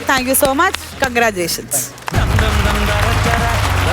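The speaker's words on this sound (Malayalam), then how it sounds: "എന്തായാലും ഒരിക്കൽ കൂടി ഒരു വലിയ കൈയടി" Audience at a comedy stage show bursts into loud, dense applause and cheering that sweeps in after a host speaks and carries on steadily to the end.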